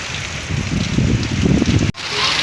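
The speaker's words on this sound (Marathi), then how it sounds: "पाऊस किती तुफान चालू आहे बघा आणि हवा तर खूपच फुटलेली" Loud, dense rain pours down with gusty wind rushing through it, a continuous downpour that briefly drops out near the end before resuming.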